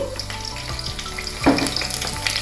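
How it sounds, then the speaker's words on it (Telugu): Green chillies and curry leaves drop into hot oil in a pan and crackle loudly, a steady dense sizzle with a sharper burst of spattering partway through. "ఆయిల్ వేడైందండి ముందుగా గ్రీన్ చిల్లీ వేసుకుందాము కొంచెం కరివేపాకు"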